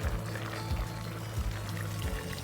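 Boiling water poured carefully over a layered Uzbek plov in a pot, a steady continuous pouring wash with low gurgling pulses repeating at regular intervals, fairly close and alone without talk.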